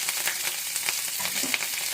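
Curry leaves dropped into hot oil with a lightly browned tempering for a raw banana onion curry, giving a close, steady crackling sizzle with small pops throughout and no voices.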